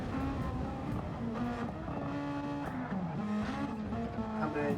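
A Super Formula race car's engine screams through a racing video game, a high sustained whine shifting pitch as it climbs and drops through gears, loud and continuous.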